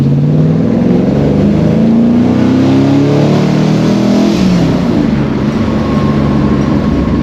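A Holden HT's swapped V8 engine runs loud and steady, its rumble rising and falling slightly as it revs, close up with no talking.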